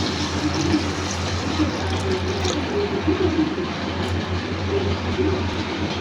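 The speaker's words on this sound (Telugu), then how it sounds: "నూనె ఇలా పైకి తేలిన తర్వాత ఒక గ్లాస్ నీళ్ళు పోయండి ఫ్రెండ్స్" A glass of water pours into a simmering egg masala curry in a pan, a steady rushing wash of liquid that carries on evenly throughout, close and fairly loud, with no talk.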